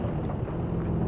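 Helicopter in the video game Jurassic World Evolution 2, a continuous low rumbling rotor drone with a steady whooshing wash, loud and close for about a second with no talk.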